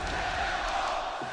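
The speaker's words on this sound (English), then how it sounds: "listen to this crowd" A dense esports crowd roars steadily through a short stretch at a Counter-Strike: Global Offensive match, a broad sustained wash of cheering and shouting with no pause.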